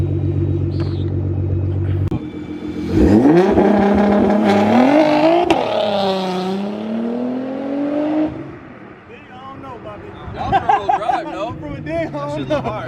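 A Nissan GT-R running on corded tires revs hard in a race against a Yamaha Banshee. The engine note climbs and falls in loud, sweeping surges over a steady rumble, with people talking throughout.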